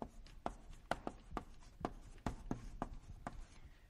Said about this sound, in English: We'll write this down for you.